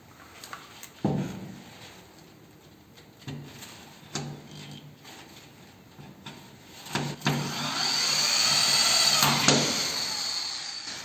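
A power screwdriver drives a self-tapping screw through drywall into a metal frame: a few short whirring bursts, then one longer, louder whine near the end, close by with no talking.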